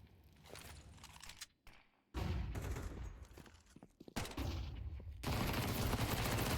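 Bursts of gunfire crackle in a Counter-Strike match, with sharp rapid shots in several clusters separated by brief lulls, ending in sustained dense firing.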